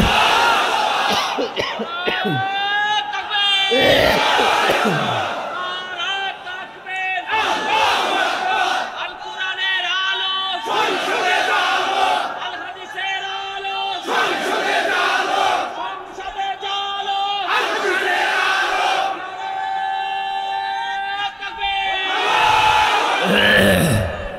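A large crowd roars takbir in unison after a preacher at an Islamic sermon gathering, several loud sustained group shouts repeating at regular intervals, close and dominant.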